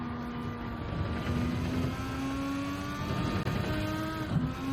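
Gran Turismo 7 race car engine droning loudly down a straight and through corners, pitch rising and dipping as the throttle lifts and gears change, steady and unbroken with no voices.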